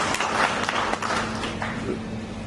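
An audience at a corporate event applauds with a steady wash of clapping, moderately loud and sustained for the whole short stretch.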